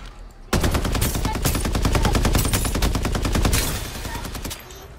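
An AK 77 rifle firing in the video game Farlight 84, a loud sustained full-auto burst of rapid evenly spaced shots lasting about three seconds, then tailing off.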